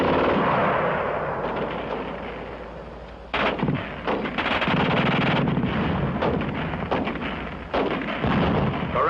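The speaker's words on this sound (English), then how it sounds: "The German gun shoots fast." German WWII machine gun firing rapidly in long, loud bursts of crackling shots, with a brief pause before fire resumes and continues almost nonstop, close and harsh.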